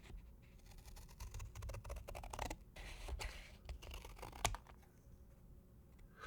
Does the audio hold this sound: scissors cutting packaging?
yes